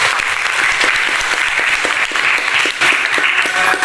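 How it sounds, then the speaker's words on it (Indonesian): Classroom applause from students for a student named Dwi after her reading, a dense, steady burst of many hands clapping throughout, loud and close. "kasih aplaus untuk si Dwi ya"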